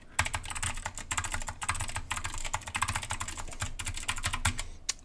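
Rapid, steady typing on a 60% mechanical keyboard with blue switches, recorded up close with crisp, clicky keystrokes in quick bursts and brief pauses, no voices.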